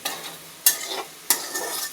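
A spatula stirs sabudana khichdi in a pan, scraping and shuffling twice in quick strokes over a soft, steady sizzle of frying, close and fairly quiet, with no voices.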